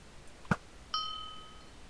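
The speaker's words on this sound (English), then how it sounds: "I love that Taco Bell sound." Taco Bell bong chime: a sharp knock, then one bright, ringing bell-like tone that lingers and fades, heard alone and close.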